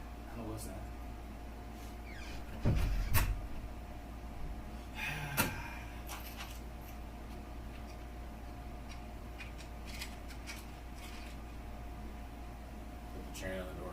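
A door in the Monte Vista hotel thumps with a muffled low knock early on, then a fainter clatter follows, all over a steady air-conditioning hum.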